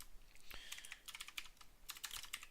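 Fingers tap on a computer keyboard during live futures trading, a quick, irregular run of soft clicks up close in a quiet room.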